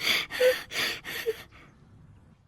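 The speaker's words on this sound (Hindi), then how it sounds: "अपना गला साफ कर रहे हैं" A man loudly clears his throat early in the morning at home, giving several harsh, breathy rasping bursts in quick succession before the sound trails off into near silence.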